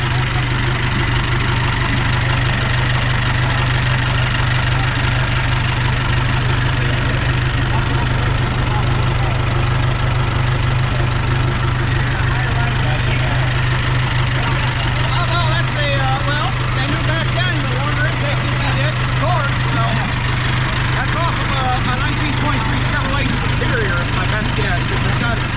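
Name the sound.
Ford Model T overhead valve engine idling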